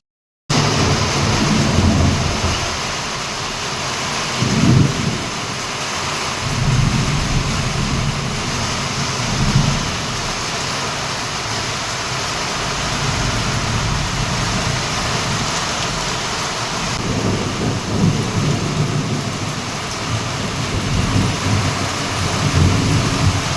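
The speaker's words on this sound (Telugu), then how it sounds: "వర్షంతో పాటు ఉరుములు మెరుపులు కూడా వచ్చినాయి అనమాట చాలా పెద్దగా వర్షం అయితే పడింది" Heavy morning rain pouring steadily in a village, with low rumbles of thunder rolling through at intervals, loud and continuous with no voices.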